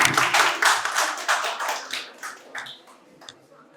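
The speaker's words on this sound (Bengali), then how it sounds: "সবাই জোরে হাততালি" Audience applause at a medical college quiz competition in Santiniketan: a dense burst of many hands clapping, loud at first and then thinning and fading over a few seconds, with no talk over it.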